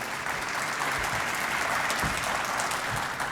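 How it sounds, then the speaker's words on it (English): A conference crowd gives a steady round of applause, dense clapping filling the hall at an even level throughout, with a few louder claps standing out. "give him a round of applause for the body of work that he's done"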